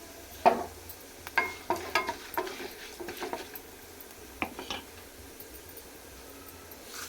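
Ingredients frying in a pan for a tamarind chutney, a faint low sizzle broken by scattered sharp scrapes and taps of a spatula against the pan.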